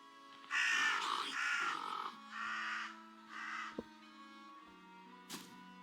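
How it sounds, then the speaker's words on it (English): Crows in the video game REKA give a run of four or five harsh, raspy caws in quick succession, loud and near, followed by a short sharp click and a brief higher squawk over a quiet tonal hum. "Can I talk to the crows?"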